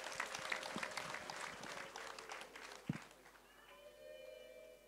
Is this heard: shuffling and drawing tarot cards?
no